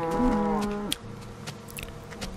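Minecraft cows give a single drawn-out moo, loud and close, followed by faint shuffling and small clicks from the game.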